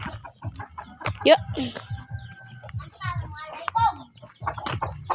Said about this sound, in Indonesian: Ada ayam